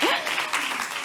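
An audience at the Refashion Day 2022 conference session applauds as a speaker is called to the stage: a short, loud burst of clapping, close and dense, with a voice faintly mixed in.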